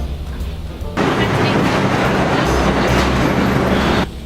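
A subway train rushes along the tracks, a loud roaring rumble with rattling wheels that starts abruptly about a second in, holds steady, then cuts off near the end.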